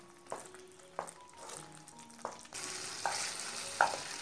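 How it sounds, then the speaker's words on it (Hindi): Chicken mughlai masala spices stirred in a pan over a high flame, a spoon scraping in steady strokes about every second over a low sizzle that grows louder and fuller halfway through. "अब गैस की फ्लेम हाई कर देंगे और हाई फ्लेम पे हमें इसे तीन से चार मिनट तक के लगातार चलाते रहना है"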